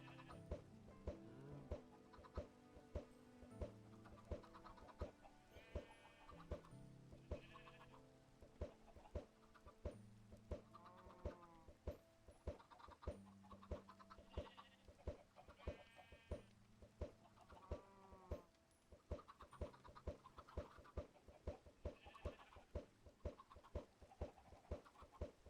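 Sheep and other farm animals in the video game Boundless, with bleating calls that come back again and again over a steady background of game music.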